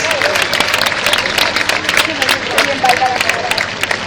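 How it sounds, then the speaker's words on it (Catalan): Audience applause for performers at a live show, dense steady clapping mixed with crowd noise and a voice over it, loud throughout. "I olé, fort d'aplaudiment per ells"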